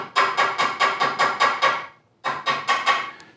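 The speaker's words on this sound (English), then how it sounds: "I'm just going to seat the bracket into the rail and then just give it a few taps on the back side of the bracket." Metal bed bracket hammered into a cherry bed rail, a rapid series of about eight sharp ringing taps, a short pause, then four more, close and loud.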